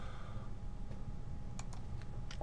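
Light, scattered clicks of a computer keyboard as an Excel formula is typed, quiet and close over a steady background hiss; no talking.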